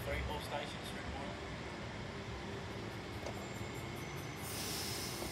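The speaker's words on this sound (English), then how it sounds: "Train on platform 3, all stations through one." A train idles at a station platform with a steady mechanical and air-conditioning hum and a whining tone, the drone holding constant throughout with a brighter hiss rising near the end.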